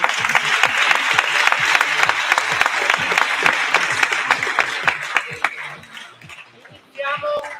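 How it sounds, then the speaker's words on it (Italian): A crowd claps steadily in sustained applause that gradually fades, followed by a brief burst of voices at the end. "Eccola qua, un bel applauso direi."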